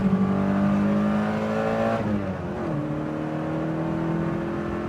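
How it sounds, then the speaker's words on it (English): A BMW 2002tii engine revs and roughens slightly at higher revs, a steady droning tone that dips in pitch partway through as the revs change, then settles into a lower, even hum, heard close and alone. "The engine does roughen up a little bit at higher revs"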